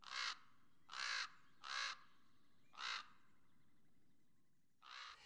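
Crows that trail polar bears give five loud, separate caws, spaced roughly a second apart with a longer pause before the last, over a faint, quiet outdoor background.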